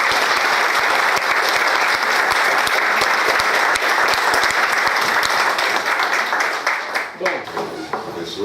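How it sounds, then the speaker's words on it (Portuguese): Sustained dense applause from a large audience at a ceremonial gathering, loud and steady for several seconds before thinning out near the end. "uma salva de palmas e agradecimento a eles"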